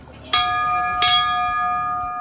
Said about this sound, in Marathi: तर इकडे बघा खूप छान अशी घंटी.